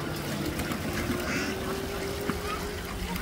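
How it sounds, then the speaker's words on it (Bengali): A flock of ducks on a duck farm quacks steadily against a broad, noisy outdoor background, with the calls blending into a continuous din rather than standing out one by one. "এরকম হাঁসের খামার বা হাঁসের পাল, এই প্রথম আমি সামনাসামনি দেখছি"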